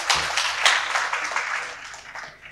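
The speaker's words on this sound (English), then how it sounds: "A round of applause for the professor." Audience applause for a professor at a food security conference in Tanzania, a brief, dense burst of clapping that swells and then fades out over a couple of seconds.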